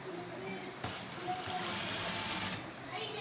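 Sewing machine running a steady edge stitch along a shirt collar, a continuous mechanical whir that surges louder midway before easing, heard up close with a voice speaking over it.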